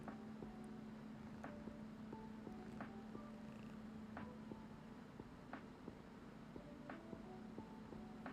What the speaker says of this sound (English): You just purring away with your little motor?